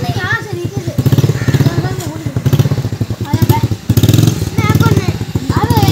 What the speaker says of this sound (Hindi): हाँ जी, मोटरसाइकिल निकाल लिया बाहर,